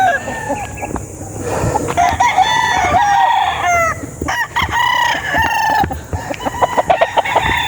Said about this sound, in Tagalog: ito po yung isang nanalo natin na stag na spangle hatch yan na po oh